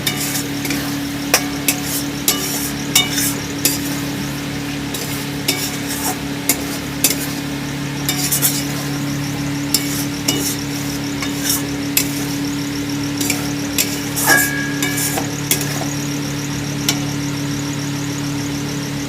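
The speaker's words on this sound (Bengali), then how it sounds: "এবার আমি দিয়ে দেবো ভেজে রাখা আলুটা, আমি ভালো করে কষিয়ে নেবো আরেকবার" Fried potatoes are stir-fried in masala in a pan for a bata fish curry, with scattered spatula scrapes and a soft sizzle over a steady low hum.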